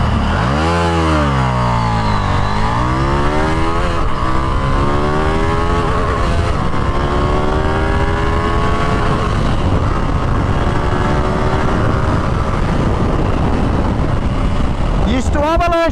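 A KTM 890 Duke R motorcycle engine revving hard for a launch, a loud, close, continuous rasping roar that dips and climbs repeatedly through the revs, with a voice talking over it.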